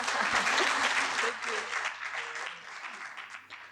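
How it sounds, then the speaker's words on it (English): A conference audience claps for the chair, loud at first and then gradually thinning out, with some faint voices mixed in. "I think the chair deserves a round of applause as well."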